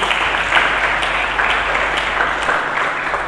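A church congregation claps together in sustained applause, evenly dense and moderately loud, heard in a reverberant hall.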